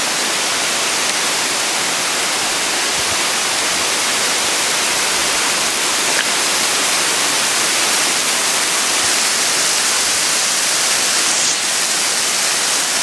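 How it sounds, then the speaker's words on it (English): A constant, loud rushing roar of falling water, broad and unbroken from start to finish, with no voices. "we made it to the headwaters of the waterfall"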